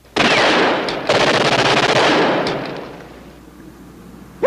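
Loud, close machine-gun fire from a 1964 war drama, rattling in a rapid continuous burst with a brief break, then trailing off into quieter crackle before a sharp sound at the end.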